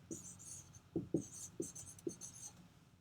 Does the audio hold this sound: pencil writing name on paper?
yes